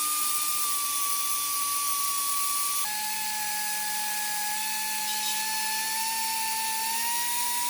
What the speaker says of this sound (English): So I'm just gonna Dremel it out.